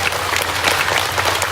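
An audience at a religious lecture in Taiwan's Zhongli Park claps together, a dense, steady burst of applause at close range.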